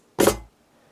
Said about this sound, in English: I have a roll going on like this.